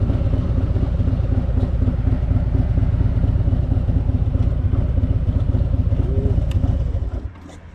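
A motorcycle engine runs at a steady, loud idle with a low rumbling chug, then cuts off abruptly just before the end, leaving near quiet.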